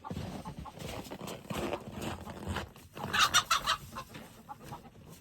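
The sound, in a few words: chickens clucking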